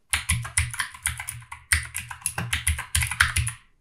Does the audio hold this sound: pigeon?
no